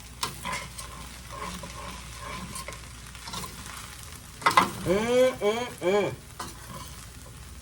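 Pork fried rice is stirred and scraped in a hot, sizzling pan, with steady frying hiss under brisk utensil strokes while a voice hums briefly near the end.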